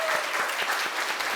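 A church congregation at a Sunday service breaks into brief, dense applause welcoming missionaries, many hands clapping together at close range.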